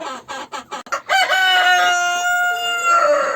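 Hens cluck in short, choppy bursts, then a rooster kept among Araucana and Dalmatian chickens lets out a loud, close, drawn-out crow that rings clearly over the flock.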